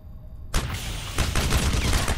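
Gunfire rings out in Crysis Remastered, played on an RTX 3080, as a sudden loud volley of dense overlapping shots that keeps going in strong bursts.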